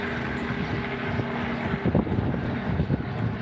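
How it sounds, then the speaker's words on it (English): Helicopter engine and rotor drone passing overhead on an outdoor walk in Geelong, Australia, a steady mid-distance rumble with rhythmic rotor thumps growing stronger in the second half. "there's the helicopter going again"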